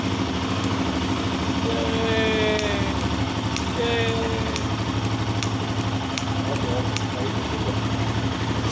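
Royal Enfield Himalayan 450 motorcycle engine idling just after starting, a steady low mid-volume rumble that continues under someone speaking, with a few sharp clicks near the end.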